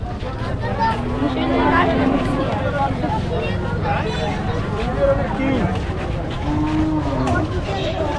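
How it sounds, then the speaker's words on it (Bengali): Cattle arriving at a crowded cattle market, with repeated loud moos and lowing over a steady din of crowd chatter and people talking nearby. "আরও বিভিন্ন জায়গা থেকে অলরেডি গরু কিন্তু আসতেছে"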